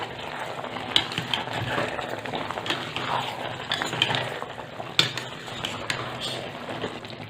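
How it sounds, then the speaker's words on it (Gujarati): A spoon stirs Kathiyawadi-style Gujarati undhiyu vegetables in a pot, giving soft scraping with scattered light metallic clinks against the pot at a steady, close, fairly quiet level, with no talk. "સરસ આપણે બધું હલાવી લેવું"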